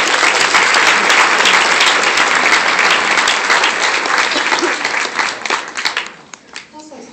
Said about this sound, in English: if we could give a round of applause for our fabulous